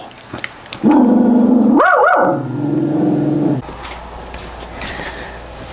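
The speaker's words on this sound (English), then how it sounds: "Dogs barking, birds screaming." A dog lets out one long, drawn-out bark that slides into a growling howl indoors, loud and near, followed by quiet room noise and faint rustling.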